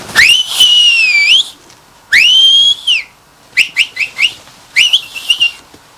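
A dog training whistle blown with fingers gives loud, piercing tones: two long rising-and-falling blasts, then a run of short, quick chirping pips, up close with no voices.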